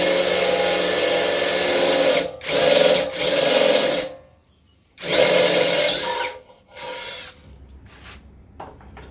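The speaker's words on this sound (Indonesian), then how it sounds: "saya juga akan mencoba untuk mengebor besi tebal 5 mili" A loud brushless impact drill whines steadily as it bites into 5 mm thick steel, cutting out in short stops and restarts, then trailing off into quieter handling sounds.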